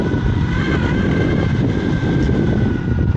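Shaboardz Summit V3 electric skateboard with loose, untightened trucks, ridden at low speed: a steady, close whirring drone with a thin tonal whine over rumbling wheel-on-pavement roar, continuous and unbroken throughout.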